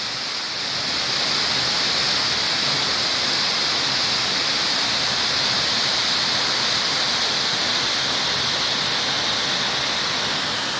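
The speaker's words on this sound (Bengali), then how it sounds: "দেখুন পাহাড়ের ওপর থেকে কীভাবে জলের ধারা নেমে আসছে।" Changey Falls in North Bengal cascading down a mountainside, a loud, steady broadband roar of falling water heard nearby, unbroken throughout with no voices.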